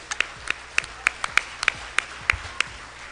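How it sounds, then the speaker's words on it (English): A small audience claps after a performance at a live-streamed cable television event, a dozen or so distinct, spaced claps over about three seconds, fairly faint and sparse, with quiet room tone between them. "How about another round of applause?"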